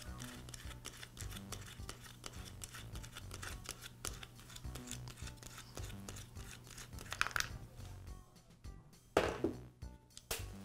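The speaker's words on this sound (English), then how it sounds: "Then I can just unscrew the thumb screw" Thumb screw being unscrewed from the air filter cover of an Echo blower, giving a close, quiet run of small scraping and clicking ticks, fairly steady, with a couple of sharper bursts near the end.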